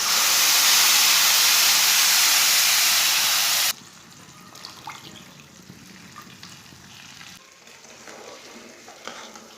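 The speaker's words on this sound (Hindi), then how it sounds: "2 प्याली पानी डाल लेंगे।" Water poured into hot roasted semolina halwa with browned cashews and sugar, a loud close burst of sizzling and hissing steam that cuts off abruptly after a few seconds, then faint stirring and bubbling.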